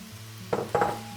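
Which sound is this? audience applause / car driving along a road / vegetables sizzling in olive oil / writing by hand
vegetables sizzling in olive oil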